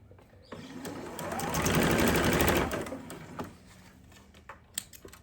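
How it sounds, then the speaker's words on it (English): A sewing machine stitches two fabric rectangles together with a quarter-inch seam at 2.0 stitch length for a quilt block, whirring in one loud close burst of about two seconds before settling into quieter clicks and handling noises. "I like to start in the center by sewing these two rectangles together."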